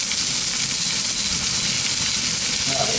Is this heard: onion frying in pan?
yes